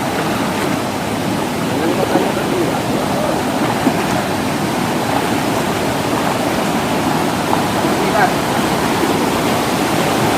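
A river splitting into two streams rushes steadily in a broad, loud, unbroken wash of flowing water that lasts throughout, with no clear voices above it.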